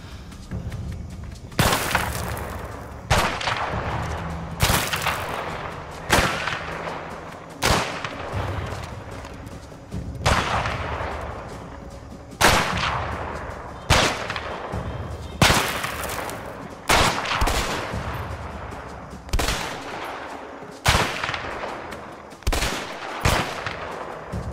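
Sniper rifle gunfire in the video game A Way Out, sharp loud cracks recurring roughly every one to two seconds over a low background rumble, with no talk.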